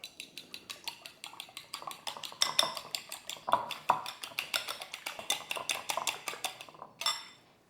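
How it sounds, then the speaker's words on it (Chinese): Eggs seasoned with light soy sauce and pepper are beaten in a bowl for a shrimp omelette, a fast, steady run of close, bright utensil clicks against the dish. "生抽、胡椒粉就 OK 了，然后我就打散"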